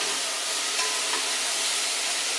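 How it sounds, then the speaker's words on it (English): Turkey bits and vegetables in a hot pot, stirred while they cook, giving a steady broadband sizzle and hiss that holds evenly throughout with no voices. "Just going to give it a little stir."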